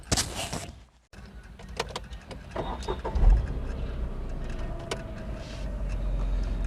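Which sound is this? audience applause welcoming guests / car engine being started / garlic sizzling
car engine being started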